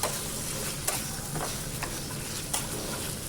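Mutton spleen (tilli) frying in a pan gives a steady close sizzle with a few scattered stirring clicks and taps, no voices.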